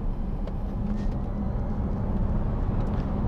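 A BMW i3S electric car accelerating hard, rated 0-100 km/h in about 6.9 seconds, heard from inside as a steady, dense road and wind rumble without an engine note, with no talking.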